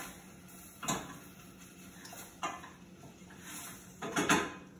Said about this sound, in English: The mushrooms. Stir it up a little bit.